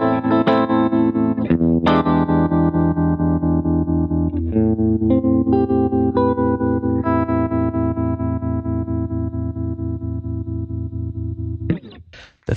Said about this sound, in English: There's also a great rotary.